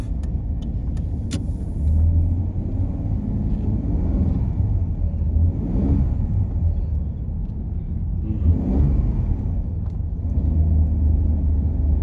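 A Ford EA Falcon idling with a steady low engine rumble, its automatic transmission slow to engage a gear, with a few faint clicks and a slight swell in engine note partway through.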